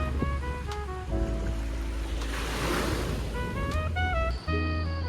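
Strong sea wind sweeps across Penyabong jetty near Mersing, a continuous broadband roar mixed with surf and laid under background music.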